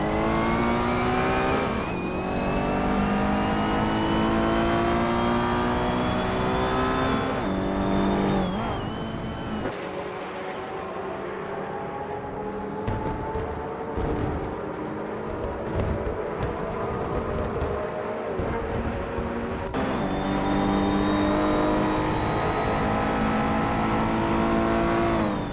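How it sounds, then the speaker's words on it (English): A 1987 Buick GNX with a turbocharged V6 races on, its engine roaring loud and close the whole time, pitch climbing and dropping through repeated gear changes. "Cobra Cole is driving a 1987 Buick GNX, which is known for its turbocharged V6 and aggressive styling"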